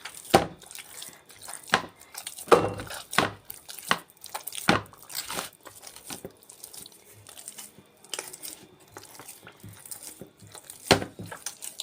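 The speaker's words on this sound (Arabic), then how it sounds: "هنخلص العجن ونرجع لكم تاني" Hand kneading of hawawshi dough with oil, giving a series of wet slaps and sticky thumps at an uneven rhythm, close and fairly loud, with no talk over them.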